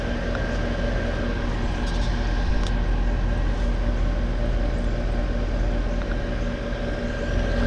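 A 2014 York Affinity series heat pump runs steadily outdoors, a continuous close fan and compressor drone with a faint tonal hum and no breaks.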